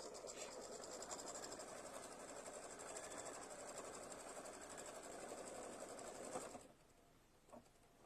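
A sewing machine stitching out a small shell design runs with a steady fast mechanical whir for several seconds, then stops abruptly, leaving a quiet room with a faint click.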